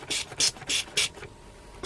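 Four or five short hissing bursts of a pump spray bottle spraying liquid, evenly spaced, close by, with a pause before a final spritz.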